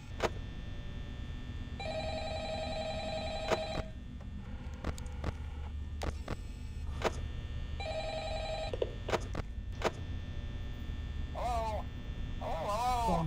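An old-style telephone rings in the Five Nights at Freddy's video game, repeated electronic ring bursts in a steady pattern over a low electrical hum, close and clear, with faint talking in the background.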